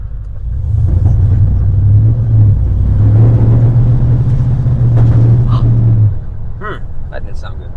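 A 1950 Cadillac hearse engine rumbles loudly for several seconds and then cuts off, followed by sharp clanks and knocks. Voices are audible.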